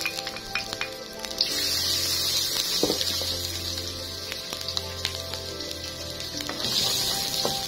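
Chopped onion sautéing in hot cooking oil, giving a steady, moderate sizzle with a soft crackle and occasional sharp pops beneath a tonal background.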